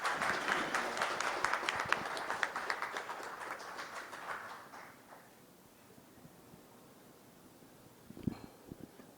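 Audience applause welcomes a speaker at a press conference, a lively clatter of claps that fades out after several seconds into quiet room tone with a few stray knocks near the end.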